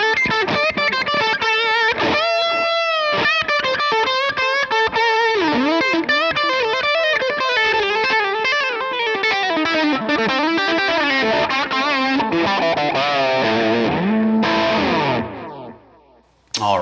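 An electric guitar through a Line 6 Helix modelling a Vox AC30 Top Boost plays a melodic line with distortion and a delay effect, notes repeating and smearing into each other, loud and sustained until a sudden stop.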